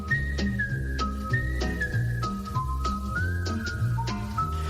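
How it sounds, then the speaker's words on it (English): The Andy Griffith Show theme is whistled as a bright melody of clear, separate notes, while a steady plucked or strummed rhythm plays underneath and keeps a regular beat throughout. "what a great theme song for a bird to know, the whistling theme to the Andy Griffith Show."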